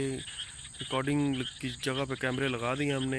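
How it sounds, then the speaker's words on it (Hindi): A dense, steady chorus of frogs croaking fills the background while someone talks over it close by. "अजीबोगरीब सी मेंढकों की आवाज़ आ रही है और बहुत ज़्यादा तादाद में है यहाँ पे ये"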